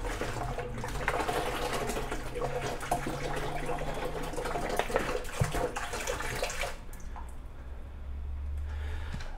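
Cold tap water pours steadily into a 30-liter beer fermenter holding a small-batch home-brew kit, a continuous close splashing gush that cuts off near the end, leaving quieter dribbles.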